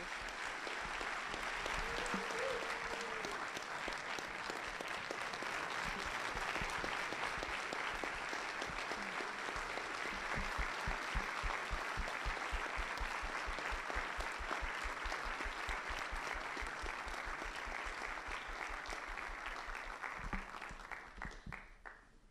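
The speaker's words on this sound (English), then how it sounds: "Could we please just get one last applause for this amazing group of guest speakers?" Sustained audience applause for a group of guest speakers at the LIFTx 2018 event at MacDill, a dense steady wash of many hands clapping that holds for over twenty seconds and tapers off at the end.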